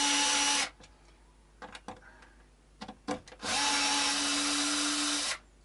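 A power drill set to torque 8 slackens screws on an Epiphone SG guitar, its steady whine running in two long bursts with a cluster of short starts and stops between them, close and loud.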